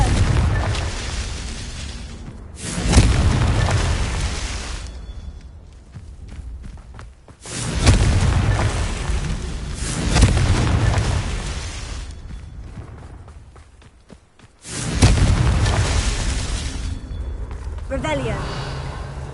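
Magical blasting spells erupting in a fantasy action video game at Hogwarts, three loud booming bursts each followed by decaying rumble and debris, with a voice casting spells between them.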